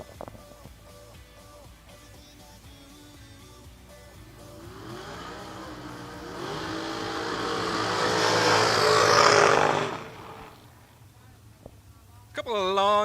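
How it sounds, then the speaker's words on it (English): A drag racing car does a long burnout at a drag strip, engine roar and tire noise building steadily louder to a peak before cutting off, heard at a distance beneath a commentator's talk. "Couple of long burnouts."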